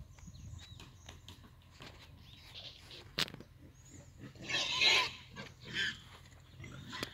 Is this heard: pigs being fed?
yes